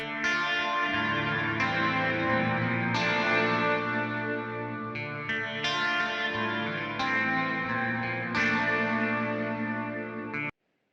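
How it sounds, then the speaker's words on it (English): Synth chords play through a FabFilter Pro-R reverb set to a wider stereo width, sustained tones changing every second or so with a spacious wash, ending in a sudden cut to silence. "stereo width is pretty self-explanatory. You get wider stereo effects."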